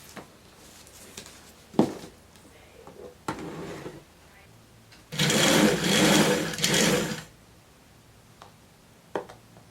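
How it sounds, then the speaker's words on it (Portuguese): A sewing machine stitches the side seams of a tulip-sleeve blouse in short close bursts of rapid whirring, the longest run lasting about two seconds, while someone talks quietly between the runs. "Alfineta aqui, passa a costura e costura as laterais."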